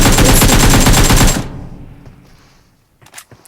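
PUBG Mobile gunfire: a loud, continuous burst of rapid automatic shots lasting over a second, then cutting off into a fading echo and near quiet, with a few faint clicks at the end.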